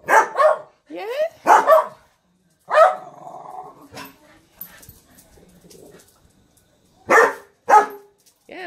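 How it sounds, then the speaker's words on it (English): Several dogs on a play date bark and yelp in loud close bursts, with a few whimpers and growls between the barks. "What are they barking at? I don't know why they're barking."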